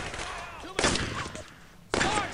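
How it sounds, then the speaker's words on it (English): Gunfire in the World War II shooter Brothers In Arms: Road to Hill 30, two loud bursts of shots close by with quieter battle noise and a voice between them. "Come on, boys. Stop shooting at me."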